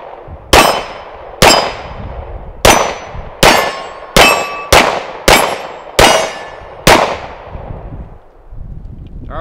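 Eight sharp shots from a Tisas 1911 Stingray 9mm pistol, each followed by a bright metallic ring from struck steel targets that fades quickly. The shots come at fairly even intervals, loud and close, with no talking.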